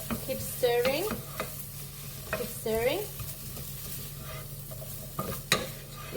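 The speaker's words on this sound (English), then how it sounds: "we'll just keep stirring" Spring onion frying in a pot for bone broth, stirred with steady scraping strokes over a constant close sizzle, with brief rising squeaky tones from the utensil against the pot.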